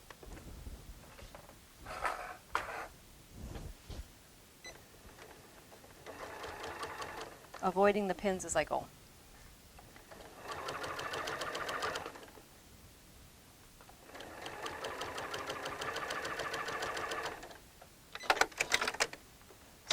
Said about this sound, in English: I have a 1/4-inch foot on my sewing machine